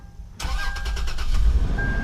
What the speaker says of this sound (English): So I'm gonna actually start the car up so I get full power.